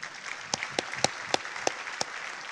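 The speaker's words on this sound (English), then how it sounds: "Can we get a round of applause for SkyT?" A handful of separate, sharp claps from a small audience at the close of a conference talk, spaced out irregularly rather than building into full applause.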